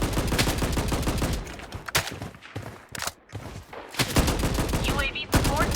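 Gunfire in the shooter video game Blood Strike: rapid automatic bursts and single shots come in dense clusters, broken by brief quiet gaps, loud and close.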